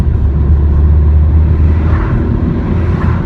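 A Fiat Grande Punto accelerates hard with the pedal floored, giving a loud, steady low engine rumble from inside the car.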